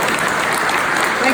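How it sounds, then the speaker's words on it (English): A crowd at a retirement gathering breaks into brief, brisk applause, loud and continuous with no talk on top. "How about an applause for Chet?"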